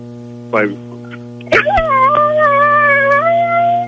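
A dog gives a short yelp, then lets out a long wavering howl over a steady electrical hum, fairly close.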